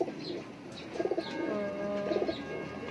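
Pigeons coo softly in short rhythmic bursts, several calls in a row at moderate distance, with faint chirps in the background.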